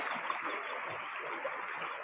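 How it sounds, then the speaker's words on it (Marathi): Fast-flowing stream water rushing strongly around someone wading after rain, a steady broadband roar close by with small splashes, no voices. "पाण्याला एवढा जोर आहे की पाय पुढे टाकवत नाही"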